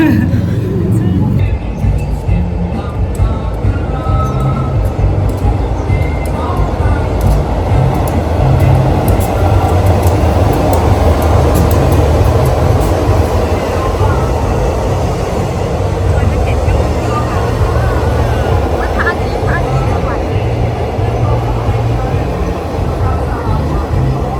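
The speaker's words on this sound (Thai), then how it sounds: "เราโชคดีนะจอเราถ่ายทันรถไฟด้วยเนาะ" A train rumbles past the new Hua Hin station continuously, a loud, low rolling roar with rattling wheels that stays steady throughout, while people talk faintly beneath it.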